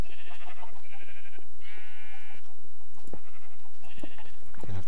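Several sheep in the Minecraft video game bleat in short, nasal, wavering calls, spaced across a few seconds with brief quiet gaps, loud and close.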